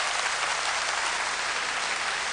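A studio audience at a Polish summer-themed television show claps, a dense, steady wash of applause filling the whole stretch without pause.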